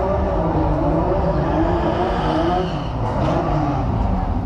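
A doorslammer drag racing car on the start line at Santa Pod, a loud continuous engine rumble with a gritty rasp, holding steady with a slight dip midway, heard close with faint talk underneath.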